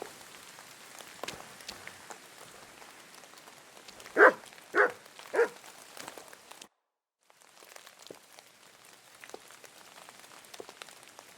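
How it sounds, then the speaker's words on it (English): In a medieval role-playing game scene, a dog gives three quick, fairly loud barks over a soft, steady patter of rain, with the rain continuing alone after a brief silent gap. "You silly doggy."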